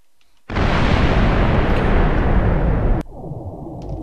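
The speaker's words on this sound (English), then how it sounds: "This is going to be a massive explosion, I can tell." A thermobaric explosive detonates in the Minecraft Voltz mod: one sudden, loud roaring blast lasting about two and a half seconds, then cutting off abruptly into a quieter rumbling tail.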